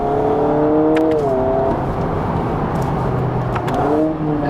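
A Honda Prelude engine pulls hard from inside the cabin, its tone climbing steadily, dropping briefly at a gear change, then rising again through the next gear, loud and continuous.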